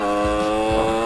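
A stock 50cc two-stroke motorcycle engine runs steadily up close, a buzzing, harmonic-rich drone with a regular low pulsing throb, loud and alone.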